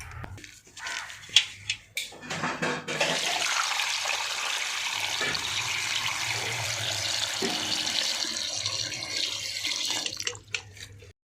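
Banana tubers are washed in water, with splashing and the rush of running water filling most of the stretch after a few sharp knocks at the start, then tapering off near the end.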